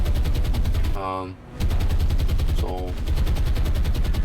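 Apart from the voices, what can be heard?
warship naval gunfire in War on the Sea video game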